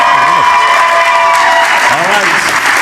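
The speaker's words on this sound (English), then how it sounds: "normally we kick it off with a huge round of applause." A studio audience on a game show bursts into loud, sustained applause with cheering, while a tonal musical sting and a voice sound over it.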